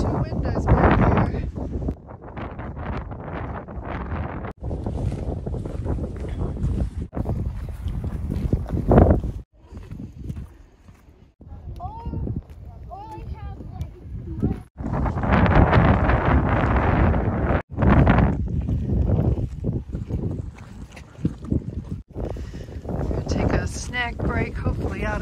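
Wind gusts buffet the microphone at Arches National Park in heavy, uneven roaring bursts with brief lulls, and people talk at times between the gusts.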